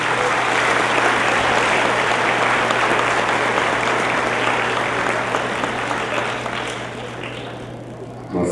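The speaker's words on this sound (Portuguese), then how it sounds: "Uma salva de palmas ao ilustríssimo coordenador do curso de Administração com ênfase em Tecnologia da Informação, o professor João Frutuoso Figueiredo Filho." Audience applause for the coordinator of a business administration and information technology course at a college ceremony: steady, dense clapping from a large crowd that holds for about eight seconds and eases slightly at the end.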